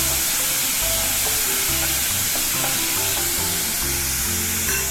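Ground tomato paste with garam masala sautéing in a pan for an aloo capsicum curry, a steady loud sizzle with scraping stir strokes, no voices.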